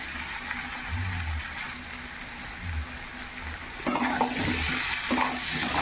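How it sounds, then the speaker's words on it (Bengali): Taro and potato fry in a pan with chili powder, turmeric and salt, giving a soft sizzle, while a utensil stirs and scrapes at intervals close by. The stirring grows louder near the end. "ভালো করে নাড়াচাড়া করে দিচ্ছি একটু ভাজা ভাজা করে নিয়ে"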